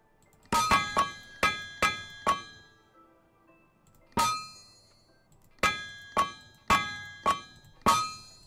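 A hammer strikes iron sheets on an anvil to weld them in TerraFirmaCraft, sharp ringing metallic clangs in quick groups of five and five with pauses between, clear and unaccompanied.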